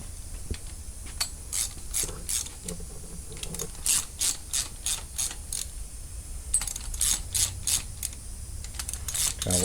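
A hand ratchet clicking in quick bursts as it slowly tightens lifter bolts on a 1968 Dodge Charger engine with a Crane cam and Howards lifters, close and crisp, in several repeated runs with pauses between.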